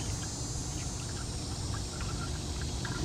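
Antifreeze pours steadily into the cooling system of a 2006 Jeep Grand Cherokee 3.7, a soft continuous liquid wash and trickle heard close and quiet, without talk.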